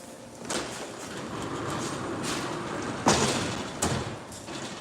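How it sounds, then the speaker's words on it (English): A wooden sliding door with glass panes rolls along its track at Kurama Station in Kyoto, giving a steady rumbling slide with a couple of sharper knocks near the end as it moves and stops. "The sound of rolling wood and glass on the window here."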